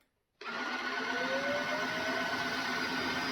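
Tineco Floor One S5 wet-dry vacuum mop switching on after a moment of silence, then holding a steady, loud motor whine with a faint rising tone as the brush and suction spin up.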